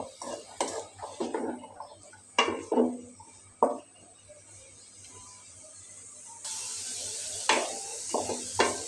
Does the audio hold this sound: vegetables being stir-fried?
yes